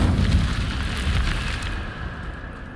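A casting of the Incendio fire spell in Hogwarts Legacy, a loud sustained whooshing roar of flame that holds steady and fades slightly toward the end.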